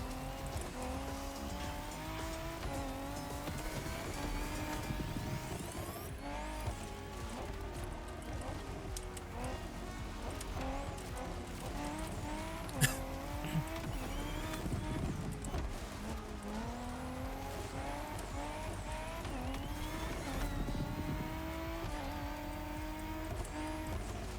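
A Ford Raptor drives in The Crew Motorfest, its engine droning steadily with shifting revs and tire noise throughout, one sharp impact midway, at a moderate level.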